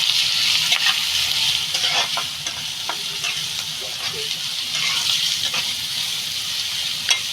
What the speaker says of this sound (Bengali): দিয়ে দেবো ধনে গুঁড়ো আর এদিকে রয়েছে জিরা গুঁড়ো এটা এবার একটু ভেজে নেব